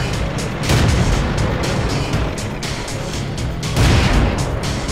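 Tank cannon fire in a World of Tanks-style battle with a Soviet SU-85B tank destroyer facing a T-50: deep, loud booms over a constant rumbling engine bed, with the heaviest blasts near the start and again toward the end.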